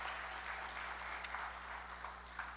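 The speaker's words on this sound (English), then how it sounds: "Let's give them a round of applause one more time." Applause for the inaugural Entrepreneurship Education Innovation Grant winners at a PNC National Center for Entrepreneurship event, a steady faint wash of clapping heard from a distance with a constant low hum beneath.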